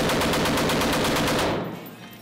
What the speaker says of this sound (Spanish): El típico ta, ta, ta, ta, ta, ta, es, yo creo que se inventó gracias al M60